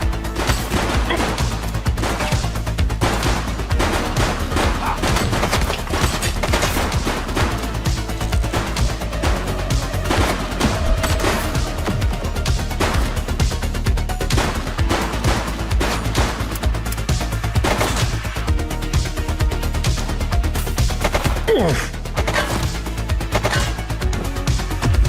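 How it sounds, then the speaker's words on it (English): Gunfire from The Precinct video game: dense, loud bursts of shots and rapid automatic fire roll on almost without pause, with crashes and impacts mixed in. "Shots fired!"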